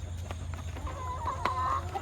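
Chickens near a rain-filled mud puddle give a faint rising cluck or call over a steady low rumble of wind or rain, with a few sharp knocks scattered through.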